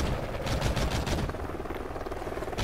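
Shotgun fire in Call of Duty: Ghosts multiplayer, a dense run of loud blasts and action noise packed back to back with no pause.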